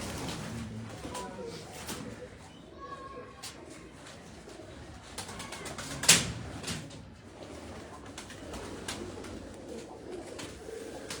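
Pigeons on a rooftop in Kotli Bazaar, birds bred on the open field, coo faintly amid distant background noise, with one sharp knock partway through.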